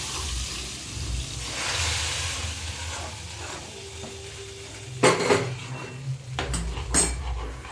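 A spoon stirs bisibelabath, a sambhar rice dish, in a pot, with soft scraping and muffled mixing followed by several sharp metallic clinks and knocks against the pot's rim near the end.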